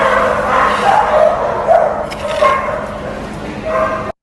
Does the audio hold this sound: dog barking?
yes